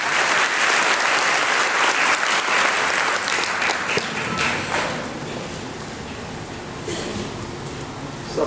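A crowd applauds at a career event, loud dense clapping at first that eases into lighter, scattered claps and a few thumps toward the end.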